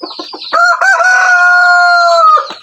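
A rooster lets out one loud, close crow, sustained and clear, after a few short clucks.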